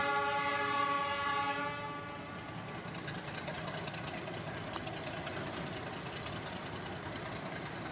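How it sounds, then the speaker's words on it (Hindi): A meter gauge train locomotive in India sounds a steady horn for the first couple of seconds, then the train rumbles along in a continuous, moderately distant roar with no talking. "वाह, 2-3 डब्बों के लिए इतना बड़ा लोकोमोटिव लगाया है।"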